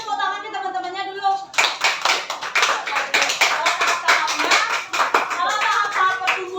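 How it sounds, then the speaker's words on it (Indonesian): A classroom of fourth-grade children breaks into quick, bright clapping for their classmates, loud and close, with the teacher's voice heard briefly before it starts. "kasih tepuk tangan ke teman-temannya dulu"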